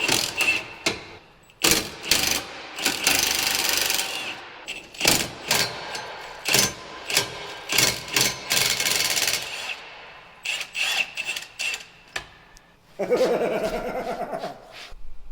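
Tools work a bracket loose on a John Deere sprayer: bursts of scraping, ratcheting and metallic clanks come in uneven spurts, with short pauses and a grinding rasp near the end.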